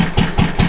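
A Lister Model D stationary engine idles at close range with steady, regular beats about every fifth of a second, a dull thumping tick-over with no voices.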